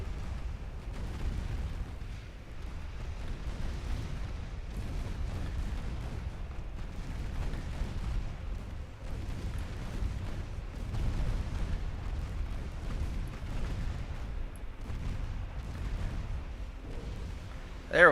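Naval gunfire in the warship game Ultimate Admiral Dreadnoughts rumbles as a continuous, heavy low booming, with deep blasts rolling one into the next throughout.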